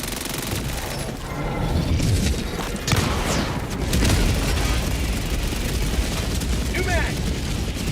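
An orbital strike detonates in Helldivers 2, a heavy rumbling barrage of booms and blasts rolling on for several seconds, dense and loud, with voices faintly underneath.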